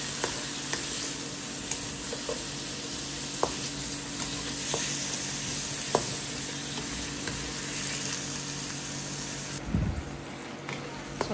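Onion, tomato and garlic sizzle together in a pan, a steady fry hiss with occasional stirring clicks and scrapes, continuous and moderately close.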